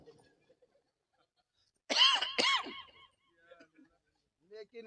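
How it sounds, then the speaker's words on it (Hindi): An elderly preacher gives a few harsh, strained coughs in quick succession at close range against near silence, followed by faint throaty sounds and brief murmurs. "देखिए खांसी उठ जा रही"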